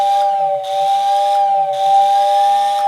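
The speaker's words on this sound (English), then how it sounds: "But the whistle itself is actually quite efficient." A Lionel model train whistle tender, roughly 60 to 70 years old and rewired to AC with a switch controller, blows a loud steady whistle with a hissing breathy edge in three close bursts, its tone wavering slightly.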